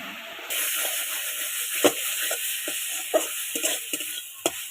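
Masala frying in a pan with sugar while being stirred, a broad hissing sizzle with frequent scraping strokes and clicks of the spoon, close and steady.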